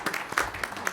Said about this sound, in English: You're applauding for yourselves and all the good work that you're doing.